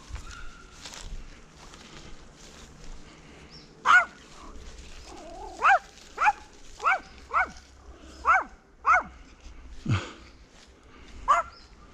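A dog barks in a loose series of sharp, separate yelps and woofs, about eight or nine bursts spread across the stretch, fairly close, over a low steady background hum.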